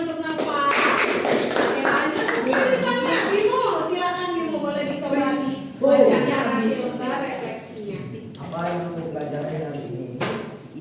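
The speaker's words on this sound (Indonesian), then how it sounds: "Beri tepuk tangan untuk Nova" A classroom of middle-school students gives a short round of applause for a classmate after a presentation, the scattered claps mixed in with ongoing talking.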